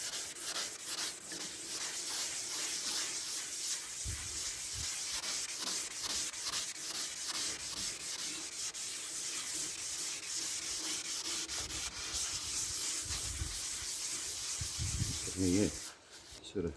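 Wet sanding by hand across primer on a VW Beetle trailer gives a steady, close scrubbing rasp that sweeps back and forth for over fifteen seconds, with a few knocks near the end.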